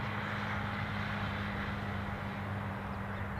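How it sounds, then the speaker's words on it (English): A Jet2 airliner at Newcastle Airport, heard as a steady, even roar of jet engines that holds at a constant moderate level for the whole stretch, with no voices. "So the Jet2 to Dalaman, that's the one I can see, thanks Alexandra, that has turned."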